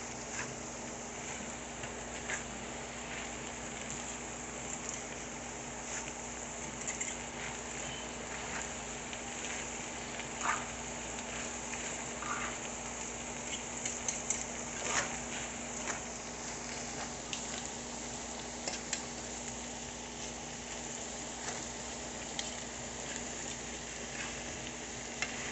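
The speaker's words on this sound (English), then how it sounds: "Basically, make these onions get tender with the heat, creating its own little moisture." Onions cook in a hot pan for lasagna, a soft steady sizzle with faint crackles throughout, quiet and even with no talking.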